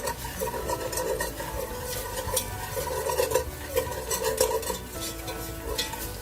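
A few tablespoons of flour cook on low flame in a pan, with a utensil scraping and stirring in irregular strokes, soft clinks and a faint sizzle beneath.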